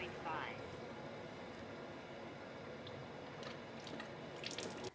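Cold water runs steadily from a tap into a sink, a soft continuous splashing hiss with a few drips, and a voice talks over it.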